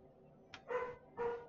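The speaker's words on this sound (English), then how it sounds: "Please don't start barking, dog." A dog barks in the background with a short yip, then two fuller barks about half a second apart, moderately loud and with no talking.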